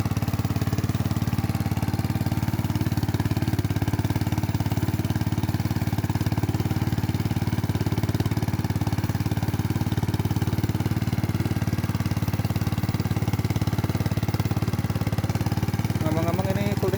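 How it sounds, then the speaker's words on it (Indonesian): A mini cultivator's petrol engine runs steadily in a wet rice field, a continuous close, loud drone with no pauses. "ini kultivatornya masih menggunakan mesin bensin"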